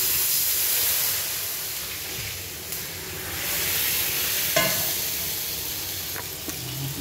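A homemade paratha fries in hot oil in a pan, giving a continuous close sizzle and hiss with occasional sharp pops and crackles, no voices over it.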